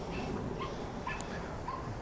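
A dog that shuns other dogs and people whimpers and gives a few high yips during a training session, with short repeated whines over a steady background.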